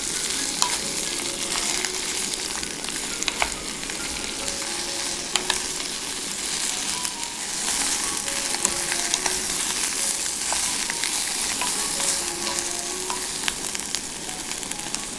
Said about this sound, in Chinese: 将小葱炒香， 再倒入虾壳、虾头，翻炒几下，炒至变色